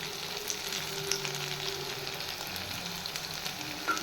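Kofta balls frying in hot oil in a home kitchen, a continuous soft sizzle with light crackles and a brief utensil clatter near the end, heard alone without voices.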